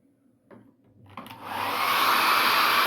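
A hair dryer drying a loose watercolor still life of fruit switches on after a few faint handling knocks, then settles into a loud, steady blowing roar that continues to the end.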